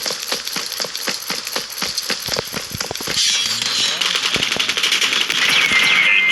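Rapid bursts of video-game gunfire ring out in Lost Light, with a fast run of sharp shots early, then a denser crackling rattle of automatic fire and clinking casings, loud and close.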